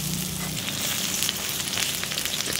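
Pumpkin flower fritters fry slowly in oil over a low flame, producing a loud, continuous crackling sizzle heard up close with no voices.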